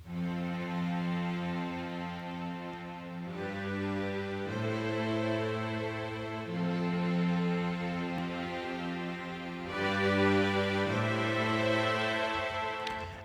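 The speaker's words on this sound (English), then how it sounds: "that's layered with some strings, which are just Ableton Live string ensemble" Block chords from the Ableton Live string ensemble, sustained and layered, changing every few seconds in a steady quantized pattern at even, moderate loudness, with no voices.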